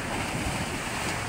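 Ocean surf and strong wind roar together in a dense, unbroken wash of noise during typhoon Opong on the coast, loud and close with gusts buffeting the microphone.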